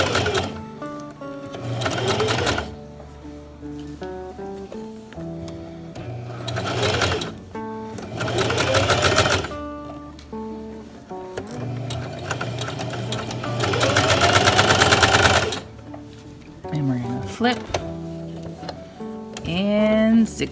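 Domestic sewing machine running straight stitches on a newborn baby sleeper, loud close whirring bursts of several seconds each with pauses between, and a voice talking briefly in the gaps.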